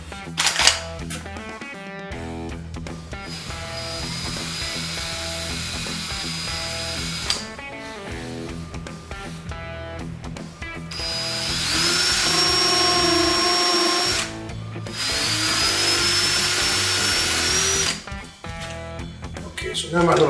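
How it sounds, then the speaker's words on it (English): A power drill whines through composite material drilling pilot holes in several bursts, its pitch rising under load, with short pauses between runs and no talking. "now my little pilot holes are drilled"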